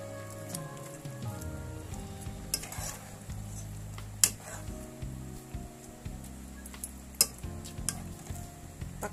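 Shrimp being added to a simmering pot of vegetables that will get malunggay leaves, with a steady bubbling patter, spoon and pot clinks, and a few sharp metallic knocks.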